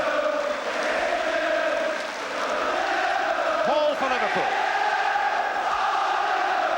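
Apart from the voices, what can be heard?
football crowd at the 1974 FA Cup Final, Liverpool v Newcastle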